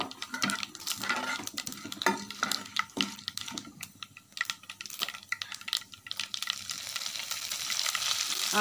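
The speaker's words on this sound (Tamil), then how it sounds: "இப்போ கடுகு பொரிஞ்சு வருது சவுண்டு கேட்குதா உங்களுக்கு" Rapid, irregular popping and crackling of mustard seeds bursting in hot oil, with sputtering sizzle and an occasional clink of a utensil against the pan.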